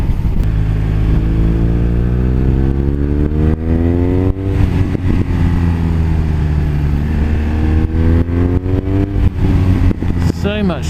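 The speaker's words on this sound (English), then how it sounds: "it's so small, but it's just got this huge engine in it, and it's so grunty" BMW R1200R motorcycle with a large, torquey boxer engine, heard as a loud, close, continuous engine drone with rising and falling revs throughout, wind buffeting over it.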